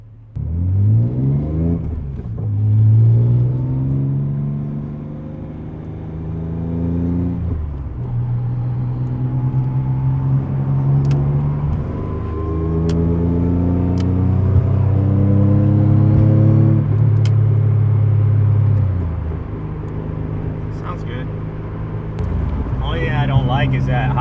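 A Nissan Z car fitted with an exhaust silencer revs repeatedly, the engine note climbing and falling in several smooth sweeps, loud and close, with someone speaking over parts of it.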